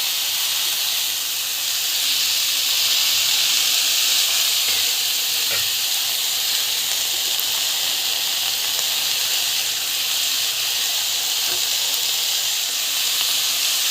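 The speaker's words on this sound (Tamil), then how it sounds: "நம்ம உளுத்தம் பருப்பு கடலப்பருப்பு ரெண்டுக்கு வந்து போட்டிங்கன்னா நல்லா வந்து வதக்கிட்டுக்கலாம்" Urad dal and chana dal sautéing in a hot pan, giving a steady, even hiss and sizzle throughout with no voices.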